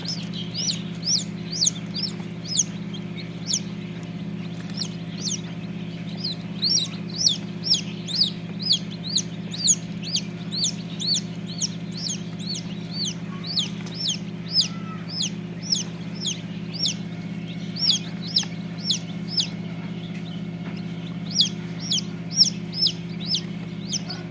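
A flock of Tiger breed chickens clucks and chirps continuously, with sharp calls repeating in a busy rhythm over a steady low mechanical hum.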